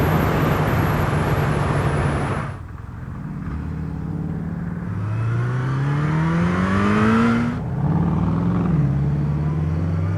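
A Kawasaki Zephyr 750 motorcycle accelerates hard, its engine note climbing steadily through the gears with a gear change midway, loud and close against heavy wind rush, with no talk.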